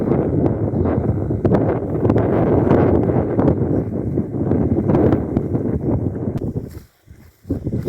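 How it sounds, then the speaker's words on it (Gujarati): Strong gusty wind blows outdoors across a groundnut field, buffeting the microphone in loud rumbling rushes that briefly drop away near the end before returning, with no talk. "જો થોડોક કદાચ અવાજ પવનનો વધારે આવતો હોય છે, પવન બહુ છે"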